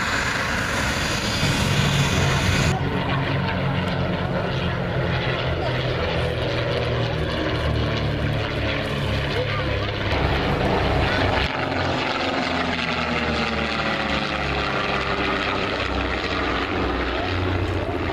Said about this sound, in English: one classic de Havilland aircraft with two classic Percivals, all of them using de Havilland aero engines